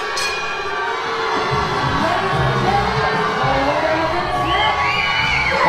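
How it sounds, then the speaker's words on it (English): A wrestling arena crowd at a lucha libre show roars with sustained jeers and yelling, a thick wall of voices with scattered whoops rising above it. "Oh, the crowd not liking that at all."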